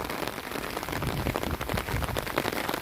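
Rain pours steadily over a field of black gram seedlings, a dense, continuous hiss of drops close to the microphone with no other sounds.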